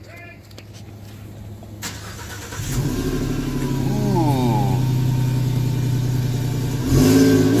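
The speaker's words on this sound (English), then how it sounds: "we're about to get a sweet cold start on this Transavant" A Transavant van engine cold-starts, cranking and catching, settling into a rough idle before revving up; a brief exclamation is heard over it.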